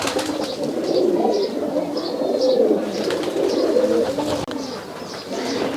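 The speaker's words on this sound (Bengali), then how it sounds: "এগুলা হচ্ছে জাগ মুখা কবুতর বলে" Jag Mukha pigeons coo repeatedly in a loft, a steady layering of soft, rolling throaty calls from several birds close by, with faint higher chirps and rustling mixed in.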